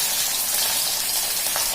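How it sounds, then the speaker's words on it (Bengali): Hilsa fish pieces rubbed with salt and turmeric fry in mustard oil in a home kitchen, making a steady, close sizzling hiss throughout. "এখানে মা ইলিশ মাছগুলোকে ভেজে নিচ্ছে নুন হলুদ দিয়ে।"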